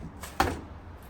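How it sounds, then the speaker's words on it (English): GE gas dryer door swung open during lid removal work, a single short clunk with a brief rattle, fairly close and faint, otherwise quiet. "All right, you're going to open the door"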